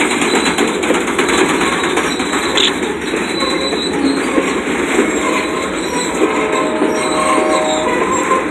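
A freight mill train from Rumford, Maine rumbles past close by, continuous and loud, with wheels clicking and squealing faintly over the tracks throughout.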